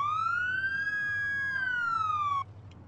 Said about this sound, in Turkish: Dayı kapat sireni ya.